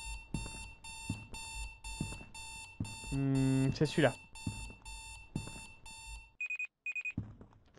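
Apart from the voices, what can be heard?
alarm clock ringing in the video game Strange Night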